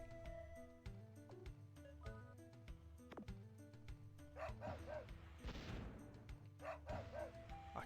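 A dog in the video game Wild Arms gives repeated short barks in two bursts over busy game music and battle effects, quiet overall.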